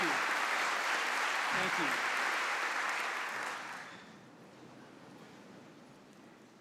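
An audience at Georgetown University gives the president a warm welcome with loud, sustained applause that fades partway through to a lower patter. A voice says a few words over the clapping.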